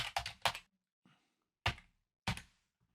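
Computer keyboard keys typed in short bursts, first a quick run of clicks and then a few spaced single taps, close and quiet with no voices.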